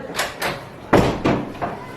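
A door being opened in a comedy scene, several knocking or rattling thumps spaced unevenly, the loudest near the middle, heard close without talk.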